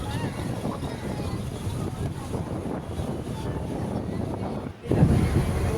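A river launch motoring through the Sundarbans waterways with another launch running alongside, a steady engine drone and water rush mixed with wind buffeting the microphone, continuous and close.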